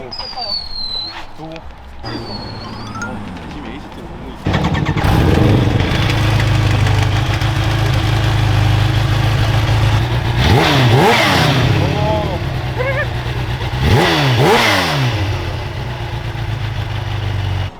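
A motorcycle engine fires up after a few seconds and idles with a loud, rough throb, then is revved twice in sharp rising-and-falling bursts near the microphone, with people talking before it starts.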